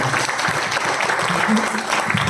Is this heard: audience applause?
yes